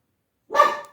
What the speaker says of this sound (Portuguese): Os cachorros, eles estão brincando, pessoal. Desculpa o latido